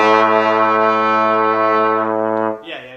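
A brass instrument holds one steady, loud note for about two and a half seconds during a beginner student lesson, then the note stops and a short, softer sound follows.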